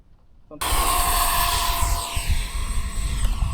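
A radio-controlled model airplane roars past close by at a flying field, its engine whine loud and steady after a sudden onset, with a pitch sweep as it turns tightly.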